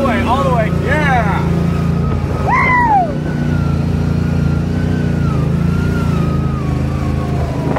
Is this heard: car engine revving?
yes